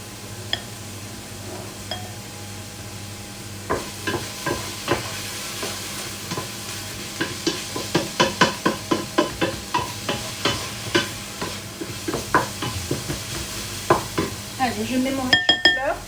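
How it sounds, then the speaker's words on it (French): Cauliflower rice sautés in a pan, a low steady sizzle overlaid by a regular run of scraping stirs and light utensil taps against the pan, close and without talk. "je vais mettre le riz de chou-fleur pendant à peu près 5 minutes. Je vais le faire revenir."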